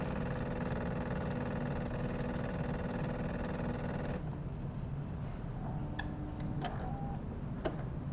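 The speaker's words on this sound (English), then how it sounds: "you can actually hear the little pulsing of the pump there" A Jura S8 coffee machine's pump pulses in a steady, faint ticking rhythm close by, then the hum shifts and a few sharper clicks and brief tones follow.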